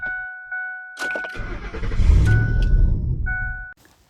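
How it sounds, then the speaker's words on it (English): A car engine cranks and catches after being boosted with an ASMAX T20 jump starter, turning over with a rising roar for a couple of seconds before cutting off, with dashboard chimes before and after, close and clear. "Now you are ready to press the start button in the car"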